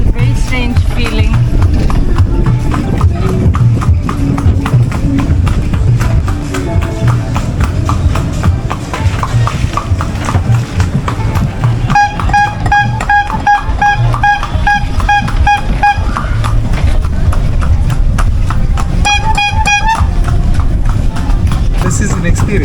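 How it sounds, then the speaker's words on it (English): A horse-drawn cart clip-clops steadily along a road on Gili Trawangan island, the hoofbeats continuous under loud nearby conversation, with a brief jingling bell ringing in bursts. "Getting picked up in a horse, in a cart, very different."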